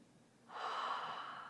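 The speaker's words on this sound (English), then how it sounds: "Inhale deeply and exhale deeply." A single deep inhalation during a guided grounding exercise, a soft breathy rush that starts after a brief pause and holds steadily for about a second, close and alone.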